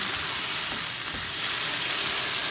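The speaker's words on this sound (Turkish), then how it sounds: "Şimdi domates suyumu döküyorum. Şöyle karıştırıyorum." Tomato juice is stirred into a hot pan for Hünkar Beğendi, giving a steady, loud sizzle and bubbling hiss throughout, with soft stirring scrapes underneath and no talking.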